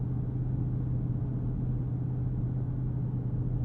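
Steady low rumble of a Dodge Charger Scat Pack Widebody's HEMI V8 heard from inside the cabin while cruising, with faint wind noise, even and subdued throughout.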